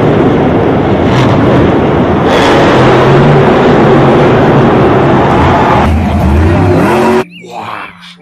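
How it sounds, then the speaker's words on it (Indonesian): A monster truck engine roars and revs loudly and close for several seconds in a steady throaty drone, then cuts off abruptly, followed by a short quiet tail with a faint voice. "Wah, mobil monster."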